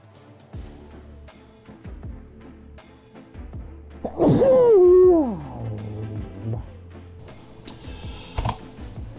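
A single loud sneeze bursts out near the middle, set against soft computer keyboard typing that patters steadily before and after it.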